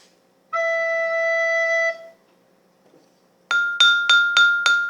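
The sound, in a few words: tuning note from a glass with water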